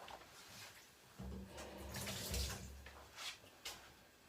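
A brief splash of tap water runs for a few seconds to wet a serving spoon before shaping a quenelle of chocolate mousse, the flow starting abruptly, steady and close, then tailing off into a couple of faint clinks.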